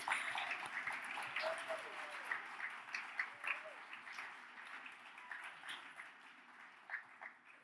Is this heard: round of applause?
yes